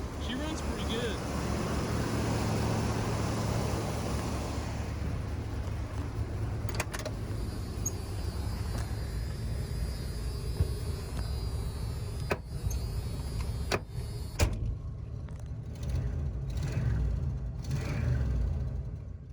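An older RV's engine settles into a low, steady idle after being revved, a rumbling drone close by with some clicks and knocks near the end and no speech over it.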